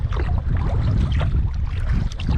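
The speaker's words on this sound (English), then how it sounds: "So just keep on paddling." A boat is paddled on the Mississippi River: a short burst of close, steady water swishing and splashing, with rumbling wind noise throughout.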